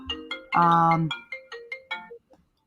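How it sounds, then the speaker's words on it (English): A mobile phone ringtone plays a short melodic sequence of bright electronic notes, a held tone followed by quick repeated beeps, fairly close and alone. "Sorry, I'm getting a phone call."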